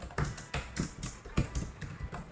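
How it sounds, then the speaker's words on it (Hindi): Typing on the rubbery membrane keyboard of an Acer Predator gaming laptop, a quick run of soft, muffled key taps in an uneven rhythm, close up and with no talking. "थोड़ा सा रबर वाली वाइब है इसके कीबोर्ड पे।"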